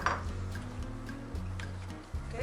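A metal spoon scrapes a 14-ounce can of condensed milk into a bowl while making a holiday chocoflan. A few light clinks and scrapes sit over a steady low hum.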